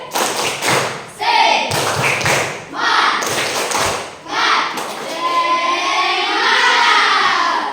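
A group does rhythmic spirit clapping, with bursts of claps and thumps in short patterned phrases, mixed with voices chanting and calling out between and over the beats.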